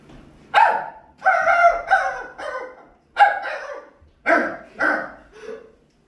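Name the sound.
student imitating a dog barking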